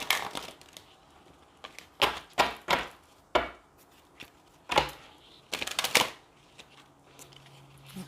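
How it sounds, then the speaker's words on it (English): Tarot cards being riffled and shuffled in several quick bursts of crisp, papery snapping, separated by brief quiet pauses, close by. "I'm just going to shuffle a couple times and get going"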